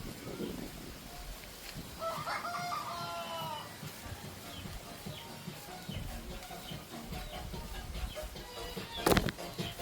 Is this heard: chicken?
yes